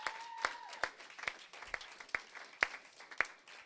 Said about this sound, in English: one more round of applause for Houston